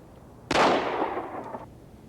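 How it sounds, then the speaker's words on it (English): A single revolver gunshot at a shooting range, a sharp loud crack followed by a decaying ringing echo, isolated against a quiet background. "Aim for the middle of the target and fire when ready."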